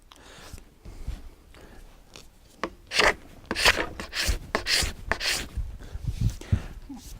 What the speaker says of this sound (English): You can draw the scraper or you can push the scraper.